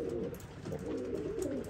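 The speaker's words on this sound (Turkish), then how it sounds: "Arkadaşlar burada Könenberg dediğimiz çeşitten var." Könenberg pigeons cooing steadily in a coop, a close, continuous chorus of soft low coos overlapping one another with no talking over them.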